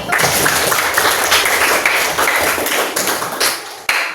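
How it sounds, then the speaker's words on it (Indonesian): Classroom applause for a student group after their presentation, brisk close clapping from a room of students throughout, loud and sustained, with a sharp final clap near the end. "Beri tepuk tangan sekali lagi."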